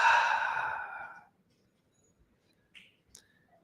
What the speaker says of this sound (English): you can exhale that breath out now